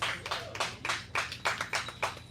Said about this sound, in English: 3 of y'all clapping.